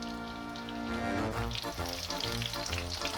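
A beef Milanese cutlet fries in butter in a pan with a steady, close sizzle and crackle throughout and no talking.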